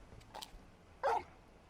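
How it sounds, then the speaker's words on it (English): A dog barks once or twice, with a short soft yelp before a louder single bark, in the video game Final Fantasy XVI; faint in a quiet background with no talk. "You're just a big puppy, aren't you?"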